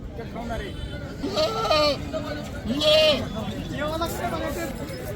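Goats bleating at a busy weekly goat market, several loud wavering bleats close by over a background of crowd chatter and voices.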